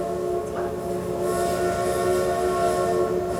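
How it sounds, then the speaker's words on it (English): A train rumbles steadily with a sustained whistle-like tone over the noise, fairly loud and continuous with no voices. "He got on the train."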